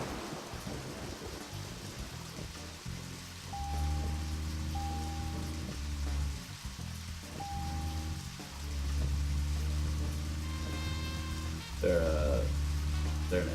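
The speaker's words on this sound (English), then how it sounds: "did it just start raining all of a sudden?" Steady rain and rumbling thunder from a storm in the video game Deadly Premonition, a continuous wash of falling water under a game music score with sustained tones, with a brief heavier burst near the end.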